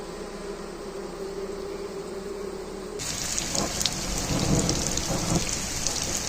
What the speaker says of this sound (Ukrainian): Файний дощ паде.